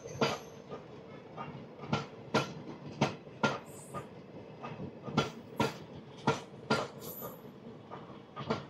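Train 12949, the Porbandar–Santragachi express, at Sihor Road railway station, where it is held in the loop line; quiet, steady clickety-clack of wheels over rail joints, with evenly spaced clacks over a low rolling rumble and no voices.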